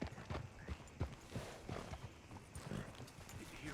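Horse hooves clip-clop at a steady walking pace in Red Dead Redemption 2, soft and fairly close, with faint background ambience.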